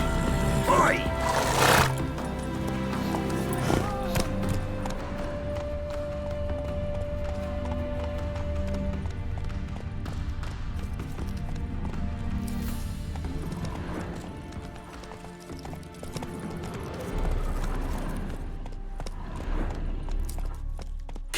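In the Witcher 3 game, a horse gallops with clear, rhythmic hoof clops and the occasional snort. Spoken dialogue and game music play over it throughout.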